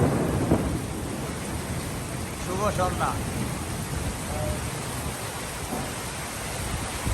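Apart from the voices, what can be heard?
rain with thunder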